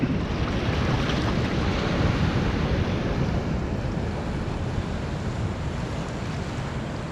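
Waves break and surge continuously close by at Glentana beach near a shipwreck, a loud dense wash of surf mixed with wind rumbling against the microphone.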